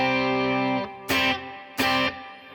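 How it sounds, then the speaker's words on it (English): Electric guitar through a Line 6 M9 effects unit set for reverb: a sustained chord rings out, then two sharp strummed chords follow, each trailing off in a reverberant tail, loud and alone. "I'm going into line 6 M9, which I'm using for a little bit of reverb"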